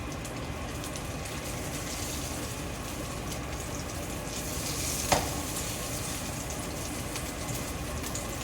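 Meatloaf slices frying in hot oil in a pan give a steady, close crackling sizzle throughout, with one brief sharper pop near the end and no voices.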